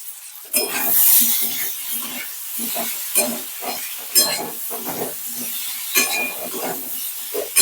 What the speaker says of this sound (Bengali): খুব সুন্দর ভাবে নেড়ে নিচ্ছি